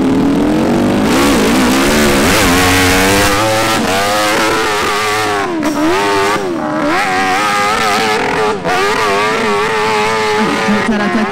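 A motorcycle engine revs hard and climbs in pitch through repeated throttle bursts during an impossible hill-climb competition at Arette, loud and close with faint speech underneath.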